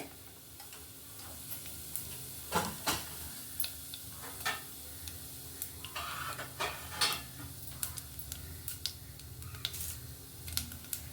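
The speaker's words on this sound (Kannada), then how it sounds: "ಈಗ ಎಣ್ಣೆ ಕಾದಿದೆ. ಅದಕ್ಕೆ ಸಾಸಿವೆ 1 ಸ್ಪೂನು, ಜೀರಿಗೆ 1 ಸ್ಪೂನ್ ಹಾಕಿದ್ದೀನಿ" Mustard seeds and cumin popping and sizzling in hot oil for a brinjal curry, with scattered sharp crackles and pops over a low steady fry, close and moderately loud.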